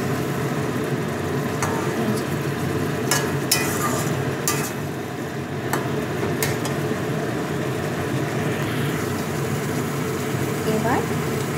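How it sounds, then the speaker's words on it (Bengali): Potatoes sautéed in a spice masala in a pan give a steady close sizzle with scattered spatula scrapes and clicks, while a voice talks quietly in the background throughout. "এই কষার মধ্যে দিয়ে কষিয়ে যাই।"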